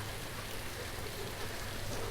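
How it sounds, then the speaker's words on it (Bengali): Dense, even hiss of heavy, continuous rain falling at Laboni Point beach in Cox's Bazar, soft and somewhat distant, with no other sounds standing out. "কক্সবাজারে এতটাই বৃষ্টিপাত হচ্ছে"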